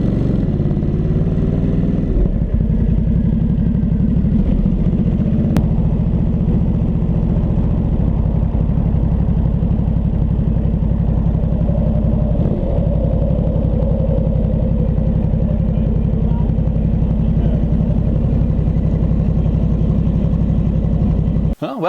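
A 2022 Ducati Supersport 950 motorcycle engine on a test ride gives a steady, loud low drone that holds for the whole stretch with only small swells in pitch.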